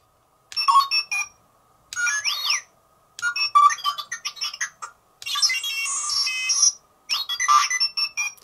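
Hot Toys R2-D2 figure from Star Wars The Force Awakens plays its electronic droid sounds: five bursts of chirps, whistles and warbling beeps separated by short pauses, close and fairly loud.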